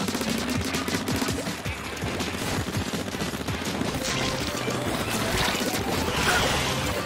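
A bomb item goes off in a Mario Kart game amid a steady roar of dense crashing, rumbling noise that stays loud throughout, with no talk.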